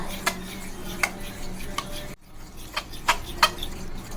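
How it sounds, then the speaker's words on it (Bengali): Spoon clinks and scrapes against a bowl as chopped ingredients, chaat masala and garam masala are mixed together, a few sharp taps spaced irregularly over a soft background, close and fairly quiet with no talking. "এবার সব কিছু একসাথে মিশিয়ে নেব"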